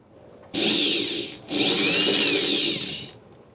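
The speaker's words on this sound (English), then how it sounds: "there is no level on the back of this drill" A handheld power drill runs in two loud sustained bursts, whining and grinding into material with a brief pause between them, close and with no talk over it.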